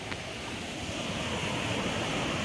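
The Peugue river flows through the Bourgailh flood retention basin in Pessac after rain, making a steady, full rushing wash of water that holds even and close throughout, with no voices.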